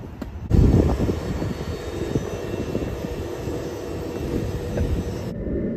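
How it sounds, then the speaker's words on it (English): A ScotRail class 334 electric multiple unit arrives at a station platform, a steady mid-loud rumble of wheels and motors rising in at once and holding throughout, with no talk. "And here's my train arriving now,"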